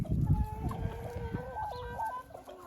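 Domestic hens cluck steadily at a backyard henhouse as evening falls, a rooster among them, with overlapping calls and faint crowing-like tones sounding close and fairly loud throughout.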